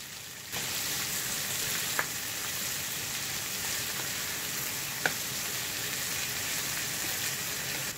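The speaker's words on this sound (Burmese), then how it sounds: "အသီးရွက်တွေစိမ့်စိမ့်လေးဖြစ်နေဖို့အတွက်မြေပြင်းပြင်းနဲ့မြန်မြန်လေးကြော်ပေးဖို့လိုပါတယ်" Vegetables stir-fry quickly over high heat in a pan, giving a steady, close sizzle throughout with a couple of sharp clicks from stirring.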